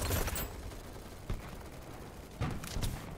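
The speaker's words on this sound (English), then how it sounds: "those are just spare bullets whizzing past it" Gunfire in the shooter game Battlebit, a few distant cracks and bursts of shots spaced over a steady background rumble, fairly faint and with no talk.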